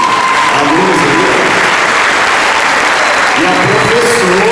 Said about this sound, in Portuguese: Aê, uma salva de palmas para os alunos aí.